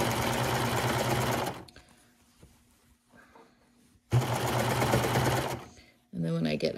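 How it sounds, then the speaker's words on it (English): A serger overlock machine stitches two seam allowances together on pants fabric, running in two loud sustained bursts with a short quieter pause between them and a brief restart at the end. "I'm just serging those two seam allowances together."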